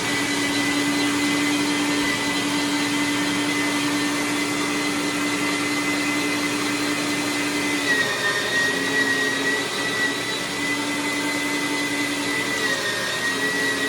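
A meat grinder grinding deer meat for sausage, a loud, continuous motor whine with a steady tonal hum that holds throughout, shifting slightly in pitch midway, with no talking.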